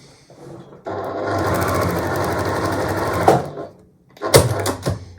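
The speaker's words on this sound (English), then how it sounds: "I'm gonna sew on the line between A1 and A2, directly on it, directly through the paper" A sewing machine set to a short 1.5 stitch length runs steadily through paper for about two and a half seconds, then pauses and gives a few short bursts of stitching, close and clear with no talk.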